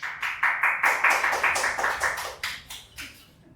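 Crowd at an esports tournament final clapping in a quick, even rhythm, loud at first and gradually fading over a few seconds, with no talk over it.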